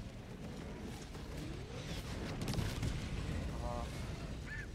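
Air support strike explosions in the Helldivers 2 video game: rumbling blasts and booming impacts that build toward the middle, with game effects and chatter layered over the din.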